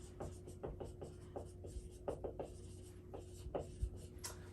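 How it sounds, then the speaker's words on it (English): Marker or chalk writing on a board during a nursing lecture on the pericardial sac, heard as quiet, close, rhythmic scratching strokes in short bursts with no talk. "I'm going to write it up here."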